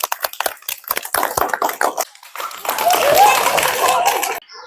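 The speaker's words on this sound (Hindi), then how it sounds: "ताली मारिए, ताली मारिए।" Audience clapping hands at an honouring ceremony for a teacher, with scattered claps building into a fuller burst of applause, mixed with talk and crowd voices before cutting off.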